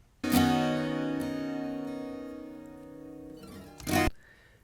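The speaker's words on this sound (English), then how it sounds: "it's the sound of my fingers going back down the neck to reset for the next phrase" A sustained electric guitar phrase rings out alone and fades, ending in a short, bright scrape as fingers slide back down the guitar neck to reset for the next phrase.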